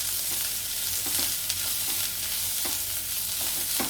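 Capsicum and onion frying in a pan for veg keema masala, a dense continuous hiss of sizzling oil with occasional faint stirring knocks, close and steady throughout.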